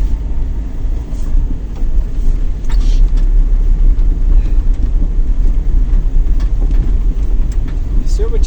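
A car drives through a snowy winter town, with a steady low road rumble and engine hum filling the cabin, loud and continuous. People talk inside over the noise.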